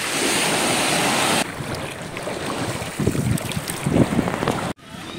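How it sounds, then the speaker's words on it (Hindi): Ocean surf rolls onto a sunny Caribbean beach at Grand Turk, a steady broadband roar of waves with heavy wind buffeting the microphone and a brief dropout near the end; no one speaks. "मैं अभी बीच में उतर रहा हूँ, समुंदर, नीला समंदर"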